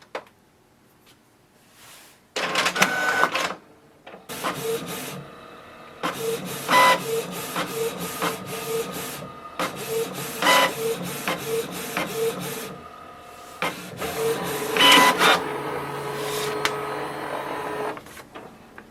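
A Canon inkjet printer runs a colour copy, its print-head carriage whirring in repeated bursts with short pauses between passes, mechanical clicks and feed noises, close and fairly loud, no talk.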